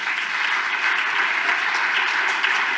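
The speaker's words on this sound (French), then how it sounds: "Est-ce qu'on peut acclamer pour lui?" An audience applauding and cheering for Jesus Christ at a French-language sermon, dense steady clapping from a large crowd sustained throughout, loud and close.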